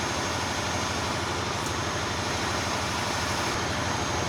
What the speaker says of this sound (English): So yeah, it's still running at 1500 RPM